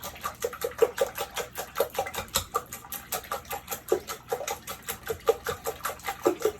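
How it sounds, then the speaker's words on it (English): Raw eggs with broken yolks are whisked from bottom to top, the whisk clicking against the bowl in rapid, steady rhythmic strokes, close and distinct, with no talking. "I'm going to break the egg yolks. Try to get them started, and then whisking from bottom to top"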